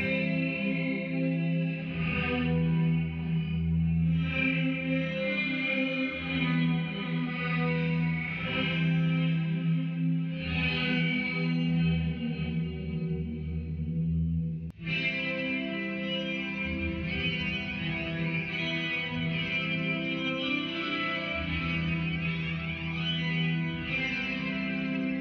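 An electric guitar run through a Zoom MS-50G multi-effects pedal for shoegaze tones plays sustained chords washed in heavy chorus, distortion and echo. It is a loud, dense wall of sound that continues steadily for the whole stretch, with a chord change midway and no voices.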